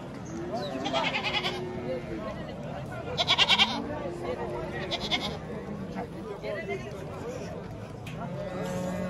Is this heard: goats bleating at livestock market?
yes